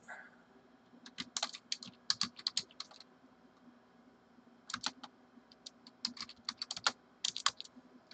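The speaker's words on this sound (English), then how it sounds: "If not, let me type it in chat." Close computer keyboard typing comes in two quick bursts of clicky keystrokes separated by a short pause, with a faint steady hum underneath.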